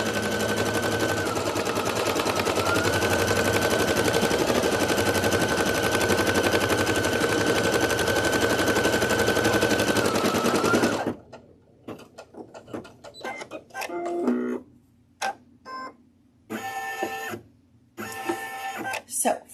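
An embroidery machine stitches an appliqué design for an owl mask, giving a dense, steady mechanical whir with rapid needle chatter for about eleven seconds. It then stops, and a person talks over quieter room noise.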